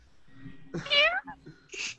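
A voice imitates a cat's meow, a short rising and falling mew followed by a softer second one, close and clear.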